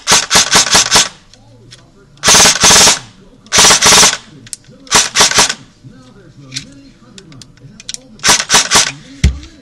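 An Echo1 MTC airsoft rifle fires by itself in loud, close bursts of rapid shots, several separate strings with short pauses between them and mechanical clicks in the gaps.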